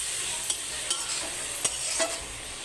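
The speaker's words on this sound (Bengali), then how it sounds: "ভেজে রাখা উচ্ছেগুলো এর মধ্যে দিয়ে দেব, দিয়ে ভালো করে আবার একটু নেড়ে নেব।" Fried bitter gourd being stirred into a rupchanda fish curry in a pan: a sizzling hiss underneath, with several quick spatula scrapes and clacks against the pan, close and clear.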